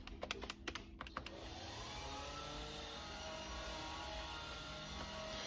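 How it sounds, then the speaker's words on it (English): Household vacuum cleaner running steadily indoors with a whining motor drone, preceded by a short burst of rapid keyboard-like clicks at the start. "And now the vacuum is running"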